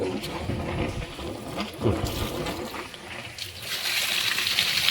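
Water pumped by a motor pours from a pipe in a rainwater storage setup, a steady trickling and splashing stream that continues throughout at moderate level.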